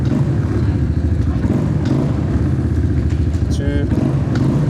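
A Suzuki LT250 quad with a drive shaft idles and revs steadily while its gears are shifted, the engine thrumming close and loud with a brief clunk from the shifter, someone talking over it.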